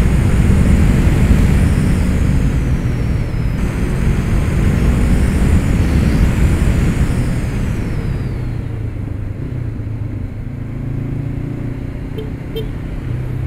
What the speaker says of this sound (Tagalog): Kahit umaabot kayo ng mga mataas na RPM, smooth pa rin yung engine.